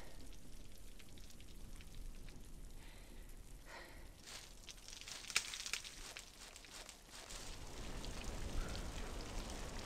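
Raindrops patter in a Tomb Raider custom level, a steady wet hiss throughout with a few sharper drips standing out in the middle and the shower swelling slightly louder toward the end.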